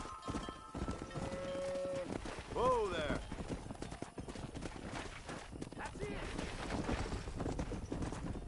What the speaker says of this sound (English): Cows, they go moo.